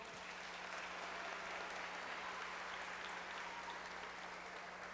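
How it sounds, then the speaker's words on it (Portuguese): Audience applause at a public debate, a steady, distant-sounding wash of many hands clapping, fairly faint, with a low constant hum underneath. "também uma salva de palmas."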